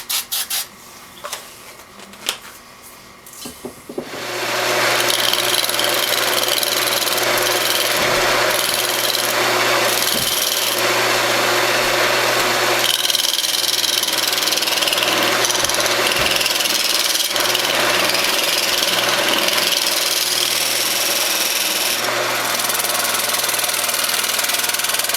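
A hackberry bowl being sanded on a wood lathe gives a steady loud rasping rub over the spinning hum, starting after a few scattered knocks and handling noises and running on without talk.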